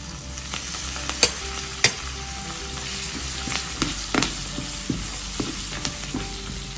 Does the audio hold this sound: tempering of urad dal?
yes